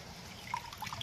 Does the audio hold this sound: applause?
no